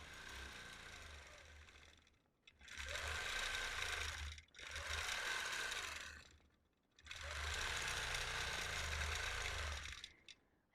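A quilting sewing machine stitches a Lone Star quilt in three long runs of fast, even mechanical whirring, each separated by short pauses, loud and close with no talking.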